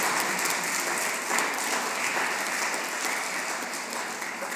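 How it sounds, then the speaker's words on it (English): Steady, full audience applause at an art presentation, broad dense clapping sustained evenly throughout at a fairly close, loud level. "So you really deserve a very big hand of applause for that."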